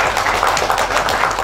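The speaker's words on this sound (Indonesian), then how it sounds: "Tepuk tangan dulu dong untuk kita semua." An audience of about a hundred community figures applauds at a motivational seminar in a Jakarta hotel, with steady dense clapping that fills the whole moment at close range.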